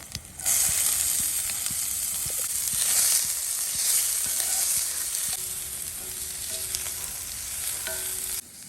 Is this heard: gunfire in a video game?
no